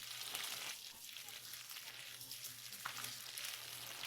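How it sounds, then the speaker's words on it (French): Meat-filled dough roll frying in hot oil, a steady low hiss and crackle of sizzling throughout, fairly faint and even. "Faites bien frire la pâte pour cuire la viande."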